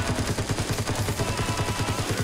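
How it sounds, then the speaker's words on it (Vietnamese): Rapid automatic gunfire rattles in a fast, even burst at a car in the battle-royale video game Rules of Survival, loud and close throughout with no talk over it. "Ok, bắn nổ xe luôn."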